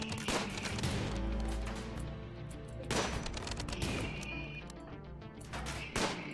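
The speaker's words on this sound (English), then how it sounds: "It is not going to be able to take much more gunfire without exploding on me." Rapid turret gunfire in the video game RimWorld, with bursts of shots repeating over several seconds amid battle noise and a dense, layered mix of in-game sounds.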